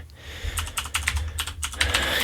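A mechanical keyboard clatters with fast, uneven bursts of keystrokes, loud and close, alone over a low steady hum.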